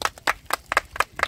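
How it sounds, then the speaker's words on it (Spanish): A single person claps for the winner of a modelling contest, about six distinct, fairly faint claps in a quick, slightly uneven rhythm. "un aplauso para la flaca"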